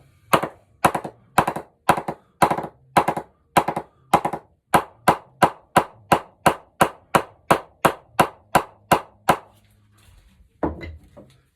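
A willow cricket bat is tapped up in a long run of about twenty sharp, woody knocks at a steady, brisk rhythm. They are loud and close, followed by a short pause and a few softer knocks.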